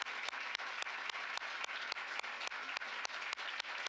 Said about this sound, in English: let me ask you to join me in a vigorous round of applause for this